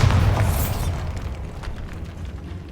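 A magical blast from the Bombarda spell in Hogwarts Legacy hits with a heavy, booming burst up front, then trails off into a rumbling, crackling decay of debris.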